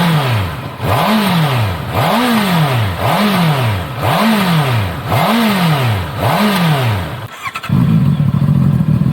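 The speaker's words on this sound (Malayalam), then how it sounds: "സ്റ്റോക്ക് CBR650R 2021 മോഡലിൻ്റെ സൗണ്ട് ഒന്ന് കേട്ട് നോക്കാം." A 2021 Honda CBR650R with its stock exhaust revs loudly and up close. Six quick, evenly spaced throttle blips each rise and fall in pitch, then the engine settles into a low, steady idle rumble.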